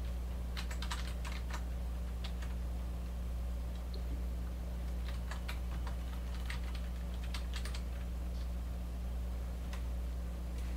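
Computer keyboard typing during Typing of the Dead Overkill, with bursts of quick key clicks spread across the clip over a constant low electrical hum.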